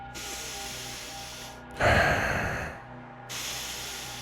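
Heavy, hissing monster breathing imitated by a voice, drawn in and pushed out through nose and mouth, a loud rasping burst in the middle between softer steady breaths, close and alone.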